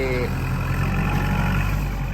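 A Kubota tractor engine running at a steady idle, a continuous low rumble with a faint voice over it.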